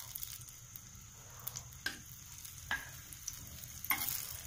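Green chillies fry in hot oil in a home kitchen pan, a faint continuous sizzle punctuated by a few sharp crackles and pops, close and quiet with no voices.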